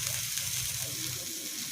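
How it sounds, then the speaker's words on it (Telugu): Peanuts sizzle in a hot pan for a salad, a steady close frying hiss broken by a few soft scraping tosses over a short stretch. "పల్లీలు ఫ్రై అయ్యాక దీన్ని ఒక 2 నిమిషాలు టాస్ చేద్దాం"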